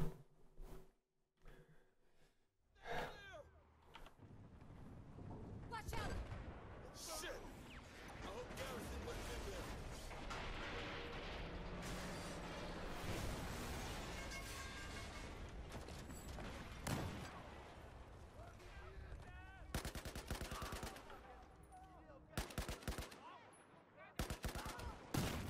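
Battlefield 4 combat with an RPG blast among heavy gunfire, loud sustained volleys and bursts over about twenty-five seconds, with voices talking over the chaos.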